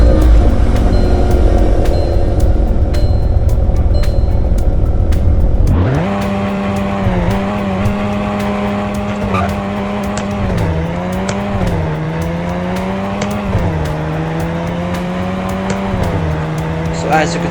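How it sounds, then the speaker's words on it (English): Car engine in Roblox Greenville revs loudly and steadily, then drops into a lower hum with repeated pitch dips and rises as manual gears shift, under a continuous droning tone. "they added some new shifting sounds"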